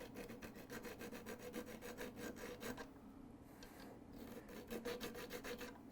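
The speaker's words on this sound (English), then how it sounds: "I'm going to use a small triangular file and just make a small scratch in the center." A small triangular file scratches a groove into a wooden stick with quick, close rasping strokes, first in a rapid run, then a brief pause, then another burst of strokes.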